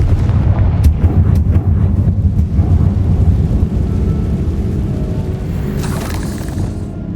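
A loud, booming blast from the Confringo spell in Hogwarts Legacy, a heavy rumbling explosion with crackling debris that starts abruptly and slowly fades, a brief bright burst near the end.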